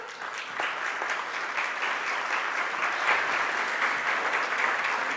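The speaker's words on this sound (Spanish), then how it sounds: "Brindémosle un fuerte aplauso." Steady applause from an audience at a Latin American conference panel on restorative justice and integral reparation. It is a dense, sustained clapping that stays even throughout.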